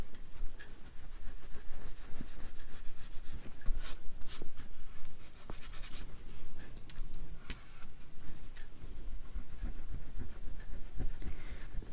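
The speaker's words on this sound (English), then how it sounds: "Any little bit that's left you can get rid of with your glue eraser." A glue eraser rubbing leftover glue off paper during card making: steady, close, scratchy back-and-forth rubbing with short bursts of friction, continuing throughout without talk.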